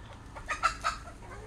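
Chickens on a natural farm cluck in a few short, quiet bursts, close by, with soft rustling farmyard background and no talking.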